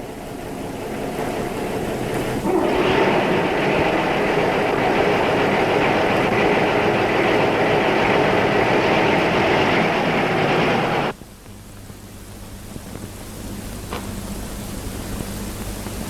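Railway wagons on a line beside a timber loading site in the 1960s, a loud continuous rumble and roar of rolling wagons that cuts off abruptly, leaving quieter low hum and faint background noise.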